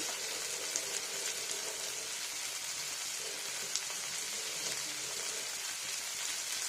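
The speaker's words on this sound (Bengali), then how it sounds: "আমি দিতে চেরা কাঁচা লঙ্কা" Slit green chillies fry in hot oil with a steady, dense sizzle and a few faint pops, close and unbroken for several seconds, with no talking.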